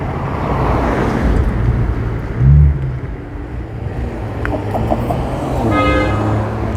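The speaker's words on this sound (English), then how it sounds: "that car was honked at" A car horn honks amid street traffic in West Philadelphia, one short loud toot rising over a heavy steady roar of wind and road noise.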